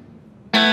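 A Vox VT20X Valvetronix modelling amp plays a guitar note through its hall reverb setting, entering suddenly after a quiet stretch and ringing loud and bright with a broad, sustained wash.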